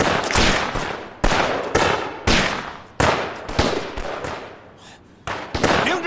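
Gunfire in a Chinese anti-Japanese war drama: loud, close bursts of rapid shots in quick succession, each cutting off abruptly, with a faint ricochet-like ring between volleys and no talk.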